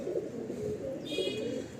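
A Nazra Kaldom pigeon coos softly nearby in low, rolling throaty murmurs, with a brief higher squeaky chirp partway through.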